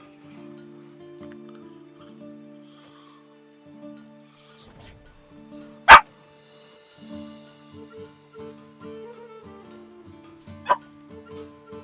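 Dog giving one sharp, close bark mid-clip and a fainter short yelp later, over soft tonal game music.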